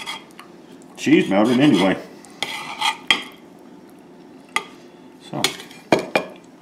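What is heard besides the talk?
knife and fork cutting into a goetta stuffed pepper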